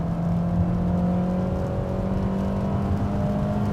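A Honda HR-V crossover, 2016-2018 model, drones steadily under acceleration from inside the cabin, a sustained engine tone holding at a fairly constant pitch with road noise beneath.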